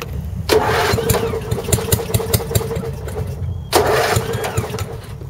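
A 1990 MTD riding mower engine is started cold. It cranks, catches and runs at a rough, loud idle close by. Partway through it is restarted with a second burst, and there is no talking.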